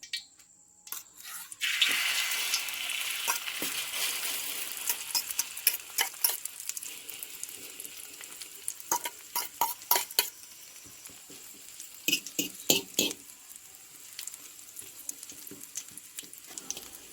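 Chicken omelette mixture frying in a Chinese-style pan, a steady close sizzle running throughout with repeated scraping and stirring clicks, no talk over it.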